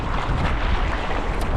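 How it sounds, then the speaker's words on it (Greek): A headwind buffets the microphone on open water while fishing from a small boat, a loud, steady rumbling gust with wave wash underneath and no voices. "Το αέρας είναι κόντρα από εδώ."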